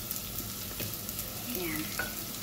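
Two large duck wings, almost half a kilo, fry in a pan with a strong, continuous sizzle and crackle. Faint clinks of utensils surface briefly and no one speaks.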